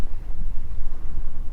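Steady wind buffets a microphone outdoors on a windy coastal fishing day, a low, rumbling, fluctuating roar with no other clear sounds.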